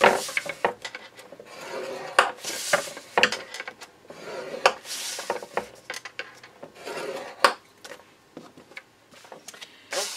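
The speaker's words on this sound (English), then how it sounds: "I'm going to get out the Simply Scored scoring tool, and we're going to score the box and the lid." A Simply Scored scoring tool creases the base of a paper box, giving a close series of sharp clicks, taps and short scraping strokes separated by brief pauses.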